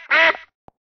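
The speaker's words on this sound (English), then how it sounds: "Duck." A duck gives one loud, close quack, followed by a brief soft click, with no speech.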